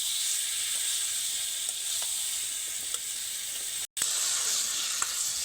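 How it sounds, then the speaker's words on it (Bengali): Fried potato pieces are stirred in a pan with spices, a steady soft sizzle and hiss of oil with faint scattered clicks from the spoon and one brief dropout. "ভেজে রাখা আলু এইবার এক থেকে দু মিনিট নেড়ে নেব"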